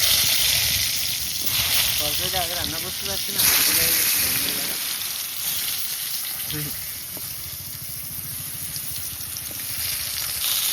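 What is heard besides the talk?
pumpkin slices frying in oil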